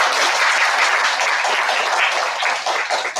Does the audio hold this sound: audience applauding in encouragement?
yes